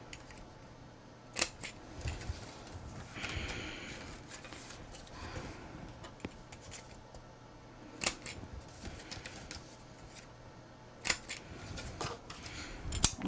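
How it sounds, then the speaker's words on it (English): A We Are Memory Keepers Corner Chomper quarter-inch rounder punches paper corners in sharp, close clicks and crunches. Paper rustles and shuffles quietly between the punches. "use my 1/4 inch rounder from We Are Memory Keepers, corner chomper"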